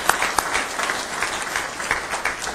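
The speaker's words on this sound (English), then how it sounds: "Let's give Montserrat a nice hand of applause for a great job." Board meeting attendees applaud a honored student, a steady, moderately quiet round of many hands clapping from across the room, sustained evenly throughout.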